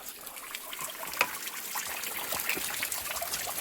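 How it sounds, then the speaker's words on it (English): Water trickles and babbles steadily along a levada irrigation channel on Madeira, a soft, continuous close flow with small splashes and no voices. "The levadas were built as a means of carrying water from the high points of the island down to the villages below."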